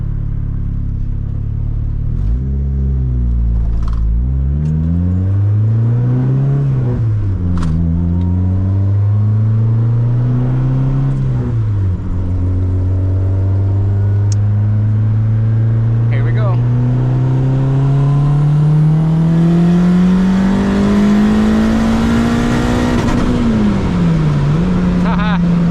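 A turbocharged car with a built engine accelerates hard in third gear, its loud engine note climbing steadily in pitch over a long pull, close and sustained, with a brief dip before rising again.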